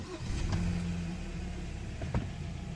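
A 2014 Hyundai Santa Fe with a 2.0 turbo engine fresh from an oil change turns over and settles into a steady idle, a low continuous rumble close by with a brief bump in level partway through.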